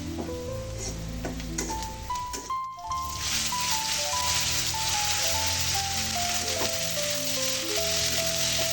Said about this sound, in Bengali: শাক ভাজি করছি